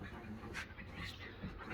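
A dog pants faintly in quick, breathy rhythm under a steady background hiss, with a few soft whimpers mixed in.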